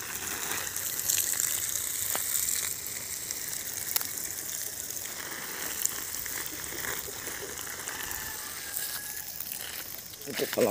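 Water splashes and gushes steadily onto the ground as a young coconut palm is watered, a soft hissing spray with occasional drips and rustles, fairly close by.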